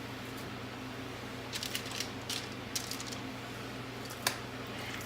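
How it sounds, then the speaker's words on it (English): Raw chicken wings are set one by one onto a greased baking pan for oven baking, giving soft, scattered, close-up wet taps and squishes over a faint steady hum, with no talking. "we're going to put our wings just on the pan like so"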